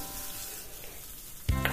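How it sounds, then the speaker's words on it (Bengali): Fish fry in hot oil in a nonstick kadai in a home kitchen, giving a steady, soft sizzle. A louder burst of sizzling and stirring comes near the end. No one speaks. "তাহলে মাছগুলো আমার ভাজা হয়ে গেল প্রায়।"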